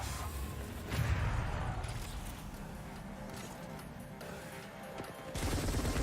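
Gunfire in the Apex Legends video game, a steady stream of shots and combat noise at moderate loudness, with a louder burst near the end.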